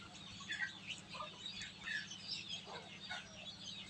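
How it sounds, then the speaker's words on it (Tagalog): Newly hatched chicks from a homemade egg incubator peep in quick, high overlapping chirps, faint and close over a low steady hum, with no talking. "Mga sisiw ko to."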